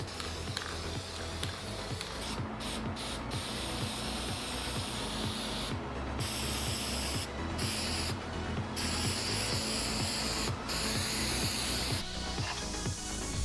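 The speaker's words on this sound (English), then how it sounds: "Dusting them with paint first, I have heard helps the paint to stick better." Short hissing bursts of spray paint dust a light coat over plastic armor pieces cut from a bucket. The sprays come in several separate puffs over a steady background bed.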